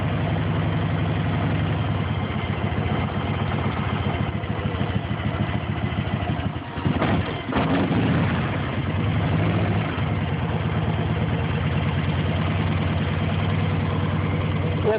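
A Harley police motorcycle engine idles while warming up with the throttle held slightly, a loud, steady low rumbling throb continuing throughout with a brief handling disturbance midway.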